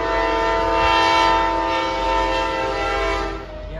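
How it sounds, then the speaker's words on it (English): A train passes close by next to a rail depot, its horn blaring loud and sustained over a heavy rumble of wheels and cars for the whole stretch. "sorry, there's a train coming."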